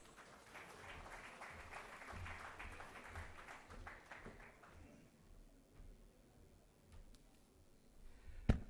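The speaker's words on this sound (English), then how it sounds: "a big round of applause" An audience at a tech summit claps, with a brief round of applause in the first few seconds that fades into quieter room sound. A sharp knock comes near the end.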